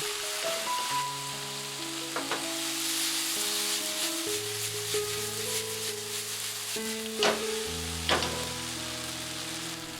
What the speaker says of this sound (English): Add the tofu. Cook for 3 minutes while stirring from time to time.